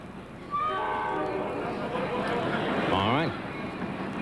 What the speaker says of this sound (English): Here comes the Amtrak 715, which would make it about 11:30.